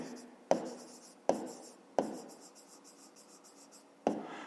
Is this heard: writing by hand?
yes